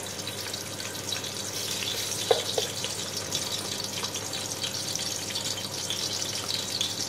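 A little chopped onion fries in oil for a shola dish, making a steady, moderately quiet sizzle that lasts the whole time with a couple of small clicks near the middle. No voices are heard.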